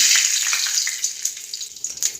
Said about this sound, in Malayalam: എണ്ണ ചൂടായി വന്നിട്ടുണ്ട് ഇതിലേക്ക് കടുക് ഇട്ട് കൊടുക്കാം